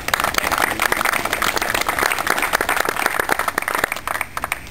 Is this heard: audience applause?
yes